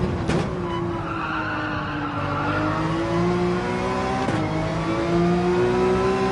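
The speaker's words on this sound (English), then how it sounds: "There's that full throttle action we need to get." A race car at full throttle in the video game Gran Turismo 7, with a loud, continuous engine drone rising and falling in pitch through gear changes, plus a tire skid, and no talking.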